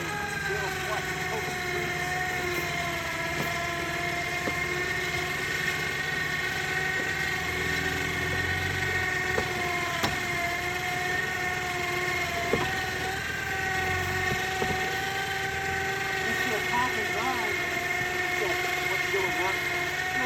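A Black Hawk helicopter runs continuously during a wilderness recovery of a four-wheeler, a steady droning engine whine with layered tones, loud and constant throughout, with faint voices underneath.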